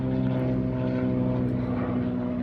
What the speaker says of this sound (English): 2 planes decide to fly over